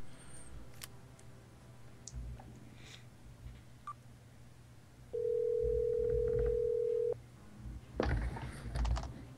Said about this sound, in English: my phone says this is Malachi Rector